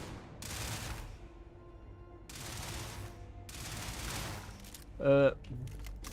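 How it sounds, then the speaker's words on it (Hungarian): Gunfire in the sci-fi game Starfield comes as distant bursts of rapid automatic fire under background noise, with a brief sharper clatter near the end. "Nem tudom miért lövöldözik Sarah"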